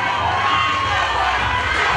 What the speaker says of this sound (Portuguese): gostaria de pedir que vocês me ajudassem a aplaudir essas meninas guerreiras